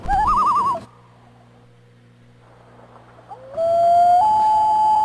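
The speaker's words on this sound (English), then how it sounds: "We woke up to the sound of loons." Loons call across a lake in Ontario, with a wavering tremolo cry at first, then a pause and a long, rising, sustained wail, clear and carrying over the still water.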